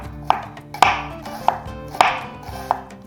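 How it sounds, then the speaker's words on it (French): A knife finely slicing red onion on a cutting board, five crisp, evenly spaced chops close to the microphone with no talking. "On émince finement l'oignon"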